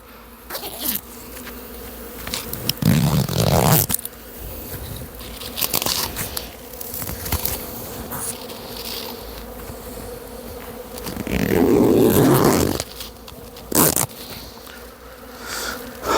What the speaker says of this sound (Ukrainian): бджола навіть через ось такий от целофановий пакетик відчуває пилок